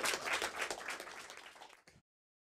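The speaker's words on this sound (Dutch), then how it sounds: "Applaus voor de dames" Indoor audience applauding for the ladies at a live beauty pageant broadcast, a burst of many hands clapping that fades and cuts off abruptly into silence.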